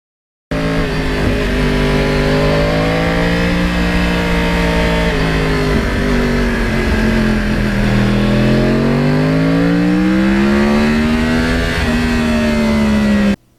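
A 2009 Yamaha R1 crossplane inline-four motorcycle engine revs loudly with the throttle opened, its pitch rising and falling in sweeping waves, close and continuous with no talk.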